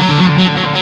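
Electric guitar played through an Ibanez TS9 overdrive pedal, a short, loud, sustained overdriven note with a smooth, slightly scooped tone.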